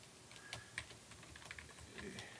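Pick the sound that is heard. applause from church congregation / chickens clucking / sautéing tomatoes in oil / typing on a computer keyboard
typing on a computer keyboard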